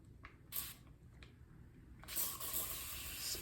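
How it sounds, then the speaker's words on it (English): A spray bottle spritzing water onto natural hair while styling jumbo twists: faint, with a few short hissing puffs, then a longer spray burst near the end over low background noise. "spritz this a little bit"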